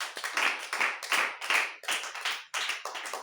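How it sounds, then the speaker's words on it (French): A church congregation claps together in a steady rhythmic beat, loud and close, with brief pauses between bursts of hand claps and no talking. "Voilà, applaudissez pour le Seigneur."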